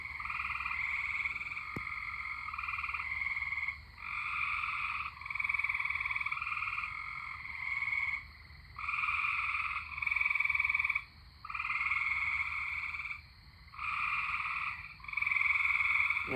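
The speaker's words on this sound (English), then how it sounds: "Fun fact about these tree frogs. The reason they croak all in synchronicity like this is to lure away predators." Tree frogs croak together in dense synchronized choruses during a thunderstorm near Troy, Illinois, with bursts of rhythmic calling repeatedly swelling and breaking off in short pauses over a low rumble of rain.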